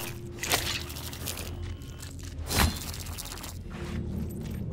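A creature in the side-scrolling game Tails of Iron chomps and crunches through a dank underground area, making wet, irregular bites and crackles over a steady low ambient drone, with one louder crunch midway.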